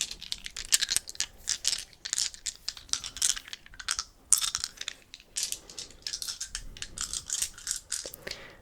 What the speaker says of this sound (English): I'll take the dice, give them a good mix